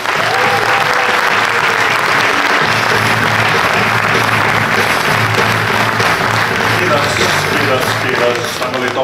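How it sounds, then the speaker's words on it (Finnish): A stand-up comedy audience in Finland breaks into loud, full applause that stays steady throughout, with someone talking over the clapping. "antaa suuret aplodit."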